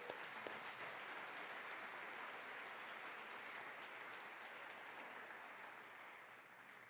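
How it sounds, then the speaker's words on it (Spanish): Church congregation applauding steadily for the Lord during a Spanish-language sermon, a dense sustained wash of clapping that fades slightly toward the end. "¿Qué tal si le damos un aplauso al Señor por eso?"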